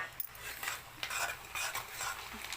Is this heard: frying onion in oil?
yes